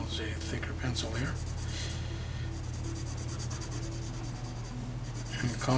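A thick pencil shades tones onto paper while a hand is being drawn, making a continuous scratchy rubbing with short strokes, close and clear under a faint background hum.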